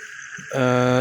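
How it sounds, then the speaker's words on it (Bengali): At a quiet rural railway station at night, a frog croaks in a loud, close, droning call that starts abruptly midway, over a faint background of insects. "যে শব্দ সেটা পাওয়া যাচ্ছে ব্যাঙের ডাক মধ্যে পোকার ডাক"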